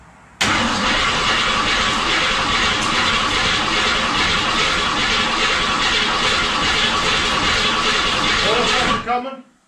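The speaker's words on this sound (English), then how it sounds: "So we're gonna run it without the ignition first to get the oil pressure up." A Summit 302 crate engine in a 1967 Mustang cranks over without ignition, a loud, continuous churning of the starter and engine heard up close for about nine seconds before stopping abruptly.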